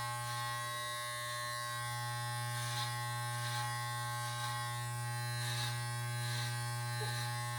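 Electric hair clippers with a 1 guard buzz steadily and close up while cutting hair, their low hum swelling softly in short strokes as they pass over the head, with no talking.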